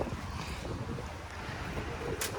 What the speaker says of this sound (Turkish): rüzgar alıp götürecek kadar kuvvetli